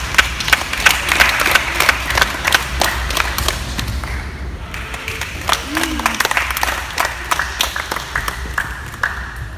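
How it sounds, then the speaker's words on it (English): Scattered audience applause at a youth basketball prospect academy event, clapping through the first half and then thinning to a few sparse claps beneath a low hum of room noise. "Give him a round of applause."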